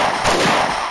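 A bomb explodes in the mobile shooter game Mini Militia, a loud, dense burst of noisy blast lasting about a second with no talking.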